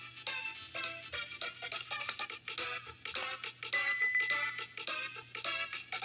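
Bright, chiming bell tones from the Goof Troop video game on a pirate ship level, struck in quick repeated bursts over a light electronic backdrop with a steady low hum.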